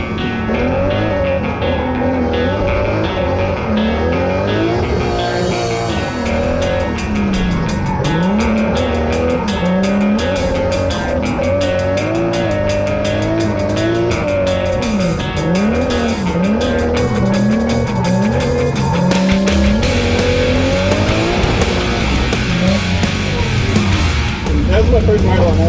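A car is driven fast around a race track, its engine roaring loud and steady throughout while the tires squeal and skid repeatedly through the corners.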